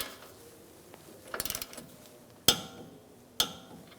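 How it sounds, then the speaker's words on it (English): A torque wrench tightening the steering rack jam nut on a 2009-2013 BMW 328i xDrive, heard as a brief ratcheting rattle followed by two sharp, close clicks a second apart in a quiet space. "We're going to torque this to 29 foot-pounds."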